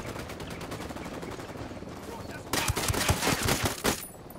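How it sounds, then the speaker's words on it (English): Gunfire from the video game Ghost Recon Wildlands: a steady patter of distant shots, then a louder burst of rapid close shots with sharp, repeated cracks in the second half. "What the hell am I being shot at?"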